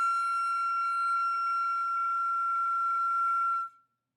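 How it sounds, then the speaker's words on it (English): A high flute note reached by blowing faster through relaxed lips, held steady and pure for about three and a half seconds before fading out, with no talk. "blow a little faster to get a higher note"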